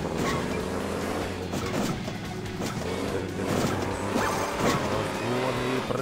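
Monster truck engine revving and accelerating in the mobile racing game Hill Climb Racing 2, a steady loud droning roar with clattering impacts and bumps layered over it throughout, no talking.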